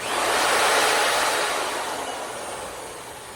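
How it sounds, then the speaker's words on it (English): A loud, continuous high-pitched whine of a power drill boring into steel on a 1970 International Scout during rust repair, steady and close, easing slightly as it goes. "Let the drill bit do its work."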